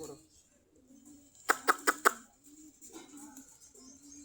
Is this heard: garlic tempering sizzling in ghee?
no